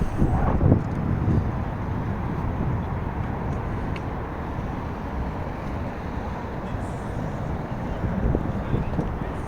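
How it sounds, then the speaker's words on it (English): Continuous city traffic in Belfast makes a broad, steady rumble, mixed with gusts of wind buffeting the microphone and a couple of faint nearby voices. "Hear that traffic pollution?"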